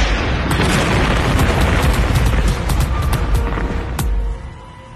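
Airstrike explosions in an action movie trailer make a loud, continuous rumbling roar with sharp cracks and booms running through it. A last blast comes near the end before the roar fades.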